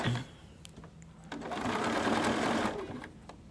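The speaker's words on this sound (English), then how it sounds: "I'm going to sew all the way down." A sewing machine stitches down the edge of a Minky quilt, starting after a brief pause and running in a steady rapid whir for about two seconds before slowing; no talking.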